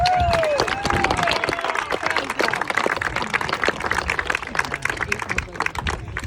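A small crowd claps and cheers after a first live gig, a busy wash of hand claps and whoops with a brief sliding whistle-like tone near the start.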